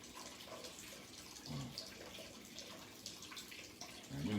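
Water runs steadily from a tap while someone rinses off, a continuous close splashing hiss with brief heavier gushes near the middle and at the end.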